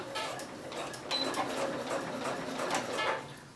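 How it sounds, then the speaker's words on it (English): Sewing machine top stitching a trouser front pocket, joining three layers of fabric, a steady close mechanical whirr with faint rhythmic ticking, no voices. "I'm going to top stitch this along here, putting those three parts together."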